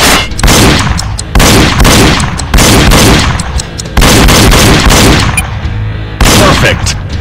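Loud bursts of gunfire from the Wii shooting game Reload come in repeated groups about a second apart, each volley followed by a brief gap, with no talk over them.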